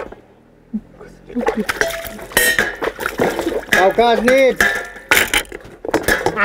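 Dishes clatter and clink under running water, with pots and plates knocking together while people talk loudly over the washing.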